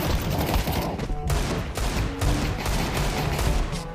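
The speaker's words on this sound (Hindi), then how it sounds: "भाई डेजर्ट ईगल ओपी, तीन मारी मैंने उसको" Desert Eagle pistol fire in the video game Counter-Strike 2, a dense, loud burst of overlapping shots and impacts filling the whole stretch, with game effects mixed in and a faint voice underneath.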